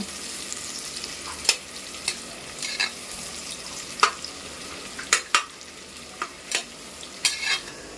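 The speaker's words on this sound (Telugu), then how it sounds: "ఉల్లిపాయలు అయితే అవి మంచిగా కలర్ వచ్చేంత వరకు అయితే మనం ఫ్రై చేసుకోవాలి" Onions frying for biryani in a pan, a steady sizzle with repeated sharp scrapes and clicks of a stirring spoon, close and loud throughout.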